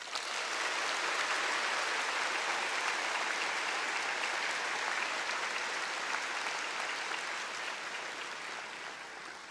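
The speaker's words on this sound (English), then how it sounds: "Please, applause for all of them" Sustained applause from a large audience at a bar passers' oath-taking ceremony, a steady wash of clapping that stays even and eases slightly toward the end.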